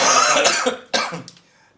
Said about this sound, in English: I have a whole bad health cough